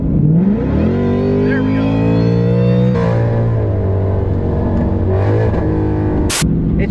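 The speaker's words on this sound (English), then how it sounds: "do our first pull with the 88 millimeter pulley on E85, first wide open throttle pull" A supercharged Mustang GT with a VMP Odin supercharger, 88 mm pulley and E85 fuel makes a wide-open-throttle pull on a highway: a loud, continuous engine roar climbing in pitch, dropping at a gear shift, then rising again, with a brief voice near the end.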